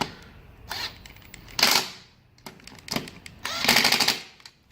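An impact gun tightening bolts on a Nissan 300ZX, two or three short rattling bursts separated by quieter pauses, close and loud with a faint workshop hum between them.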